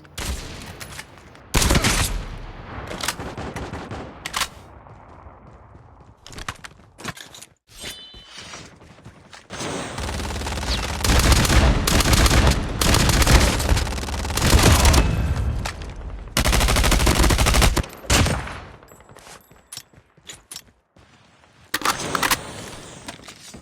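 Gunfire in the video game Call of Duty comes as loud, close bursts of automatic fire and booming shots, with dense sustained volleys in the middle and gaps of quiet between them.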